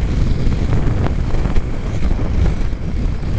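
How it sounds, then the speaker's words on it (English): Outdoor wind buffets the microphone with a loud, continuous low rumble and gusty roar, and no voices are heard. "it's very windy"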